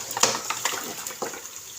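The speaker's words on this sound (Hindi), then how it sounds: "इसमें हम लोग उनकी यखनी भी ऐड करेंगे" Beef broth (yakhni) is poured into a pot of cooked beef trotters for paya, giving a close, steady liquid splashing and trickling with a few brighter splashes near the start.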